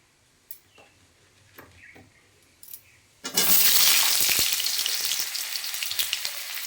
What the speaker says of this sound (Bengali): আলুটাকে লাল করে ভেজে নিই